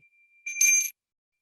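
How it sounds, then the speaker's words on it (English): A Balinese bell rung once, its bright metallic ring holding steady tones for about half a second before stopping, clear and alone in an otherwise quiet room. "So I'm going to ring my Balinese bell right now"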